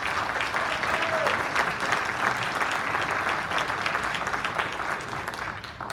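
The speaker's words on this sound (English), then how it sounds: "Let's give them all a round of applause." An audience gives a round of applause for the candidates at the close of a county magistrate forum, a dense, even clapping that holds steady and tapers slightly at the end.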